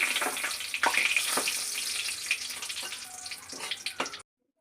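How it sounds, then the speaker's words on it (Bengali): Whole dried red chillies, bay leaves and whole spices sizzle steadily in hot oil in a kadai, with occasional sharp pops and clinks over the frying hiss, before it cuts off abruptly. "কড়াই এবার দিয়ে দেব গোটা শুকনো লঙ্কা"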